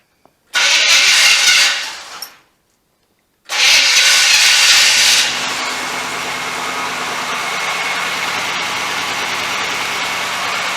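A car fitted with new mufflers cranks once and cuts out, then cranks again, catches and settles into a steady, rumbling idle, nearby and loud.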